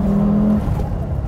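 A high-mileage Italian sports car engine revs in a loud, steady burst for about half a second, then drops back toward idle. No one speaks over it.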